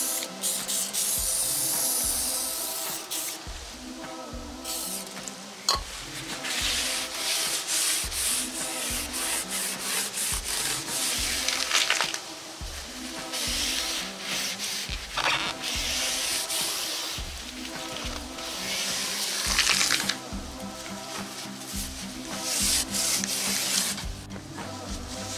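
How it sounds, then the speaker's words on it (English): Lubricant is sprayed onto a sliding door track in close, repeated hissing bursts that mix with scraping and rubbing sounds, with no talking. "now we've got the track clean, and we have it lubricated, and we have it protected against rust and corrosion"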